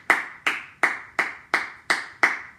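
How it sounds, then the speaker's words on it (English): A person claps their hands seven times in a steady, evenly spaced rhythm, each clap sharp and close, with no talking. "he's clapping for himself"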